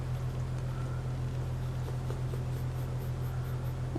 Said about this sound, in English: Now we're back to drawing the gyrosphere.